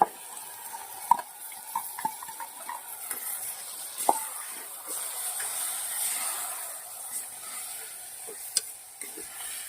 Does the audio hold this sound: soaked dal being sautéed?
yes